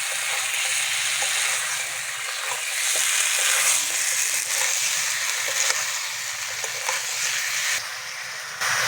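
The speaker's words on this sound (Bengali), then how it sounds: "এর ভেজে রাখা আলুটা দিয়ে দেবো আলুটা ভালো করে মশলার সঙ্গে মিশিয়ে নেব" Fried potato pieces tossed into a ground spice paste in hot oil for a vegetarian aloo dum, giving a steady, dense sizzle with scraping stir strokes throughout, close and loud, no voices.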